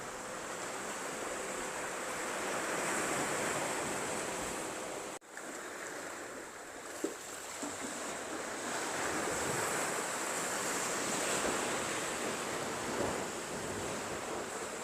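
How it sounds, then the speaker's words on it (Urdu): Sea waves surge against a mountainside near a cave on the Gadani coast in Balochistan, a continuous roaring wash of surf with wind, steady and fairly close, with no voices. "پہاڑ کے پاس جو سمندر کا پانی ہے لہروں کی صورت میں بہت"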